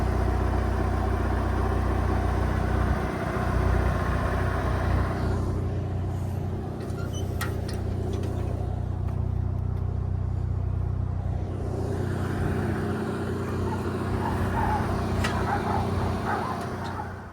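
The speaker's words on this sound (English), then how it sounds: "I got the car warming up so I can pull it out" A BMW M20-engined car warms up at idle, a steady low rumble with mid-range engine hum holding throughout, and a brief dip in the upper noise midway; no talking.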